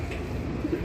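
Soft, low pigeon coos sound close by in short murmuring notes over a faint background hum.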